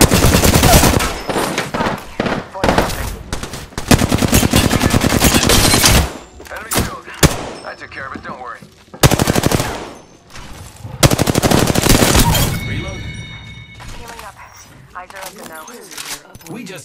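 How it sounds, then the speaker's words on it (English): Gunfire in a shooter video game, loud rapid automatic bursts from enemies alternating with short gaps, several long sustained volleys and scattered single shots, up close. "The enemies are shooting at"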